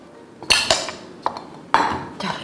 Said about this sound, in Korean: 티스푼 이용하니까 이렇게 잘 파집니다.